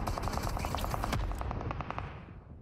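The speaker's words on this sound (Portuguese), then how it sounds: "Eu parei porque pensei que tá atirando em mim. Tá atirando um cara lá em cima." Rapid automatic gunfire in the mobile battle royale game PUBG Mobile, a fast rattling burst of shots at moderate distance, trailing off and fading after about a second and a half, with no talk.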